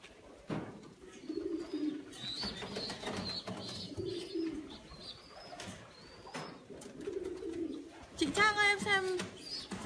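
French pigeons in a coop on a farm with vegetable greenhouses coo in soft repeated rolling calls, with chirps and a brief flurry near the end over faint background noise.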